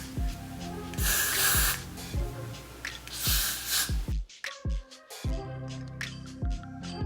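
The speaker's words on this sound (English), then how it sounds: "I'm gonna take my freeze spray, spray it, and then blow dry it" Freeze spray hisses onto a section of a human hair blend lace front wig in several loud, close bursts. A blow dryer or similar broadband noise partly masks them. A brief quiet gap falls near the middle.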